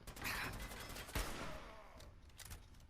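A gunshot in Fallout 4 landing a headshot: a sharp crack amid dense, noisy game ambience with scattered bursts, fairly quiet overall.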